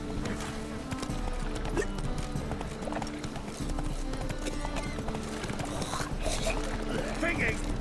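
Rhythmic clip-clop of horse hooves in The Witcher 3: Wild Hunt runs steadily throughout, with a low rumble beneath and voices speaking over it.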